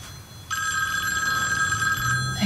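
Telephone ringing indoors: one long bright bell ring lasting about a second and a half, close and fairly loud over faint room hum, with no voices.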